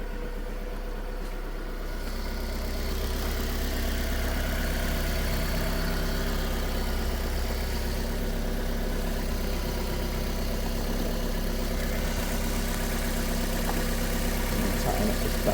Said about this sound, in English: This car's got a slight blow from the exhaust manifold gasket.